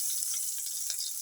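Curry frying in a pan, a short steady hiss of sizzling with faint crackles, close and even throughout.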